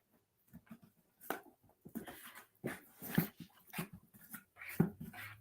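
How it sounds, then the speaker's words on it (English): A dog whimpers, whines and makes restless little noises in a room, in irregular bursts with short pauses, faint and close by with no talking over it. "Sorry, you might hear my dog making a lot of noise."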